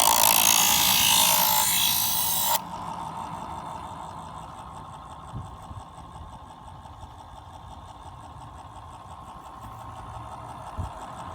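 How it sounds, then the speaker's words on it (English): An electric knife sharpener grinds a knife blade with a loud, bright hiss for about two seconds. It then drops to a quieter, steady motor hum with faint scraping and an occasional tick. "Getting quieter, so it's obviously getting to be a finer stone."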